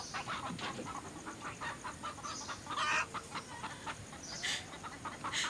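Chickens clucking repeatedly over a steady background hiss, with a few louder sharp calls standing out now and then.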